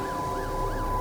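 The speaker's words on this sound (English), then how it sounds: "Ambulance for my mother, presumably." Wailing ambulance siren from the video game The Alters, rising and falling in steady repeated sweeps over a low rumble, loud and continuous with no talking.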